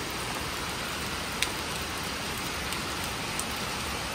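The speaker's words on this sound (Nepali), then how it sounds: "पानी पर्यो आज बस्नु पर्ला जस्तो छ त्यसमा" Heavy rain pours down in rural Lamjung, Nepal, as a thick unbroken hiss, with a few faint drips or taps standing out now and then and no voices.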